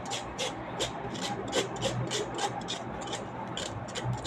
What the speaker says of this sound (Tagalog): kakayurin nyo lang dahan-dahan